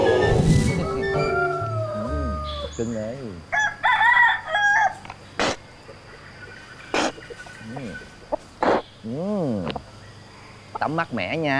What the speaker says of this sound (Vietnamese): Lần này con phải giết con gà của thằng Bảy Dịch cho tao ha